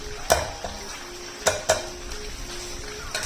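Chicken sizzles as it fries in a pan for nihari, with sharp clinks and scrapes of a utensil stirring against the pan over a steady low crackle; no talking.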